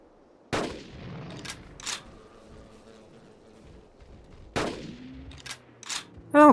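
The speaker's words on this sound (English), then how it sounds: "you can actually fire a couple of shots off pretty quickly to deal with it" Rifle shots in Carnivores Dinosaur Hunt, two loud, sharp reports several seconds apart, each followed by a rolling echo and a few fainter clicks and pops in between.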